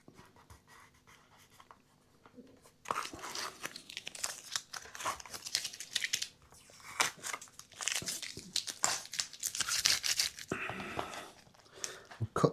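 Paper being cut and handled while making a template for a guitar string guide, with crisp crinkling, rustling and snipping sounds in close, irregular bursts that start after a quiet opening and continue steadily, some louder rustles near the end.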